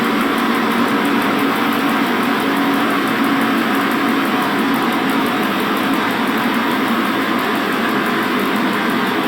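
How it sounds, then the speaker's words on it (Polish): A train in the Maszyna train simulator game rumbles loudly and continuously as it slows, a steady dense rolling noise with a low engine hum and no voices. "nasz pociąg zwalnia"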